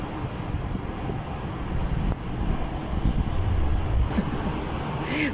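Wind blowing outdoors in a garden with potted plants, a steady rushing buffet against the microphone that swells and gusts throughout, fairly loud and close, with no talk.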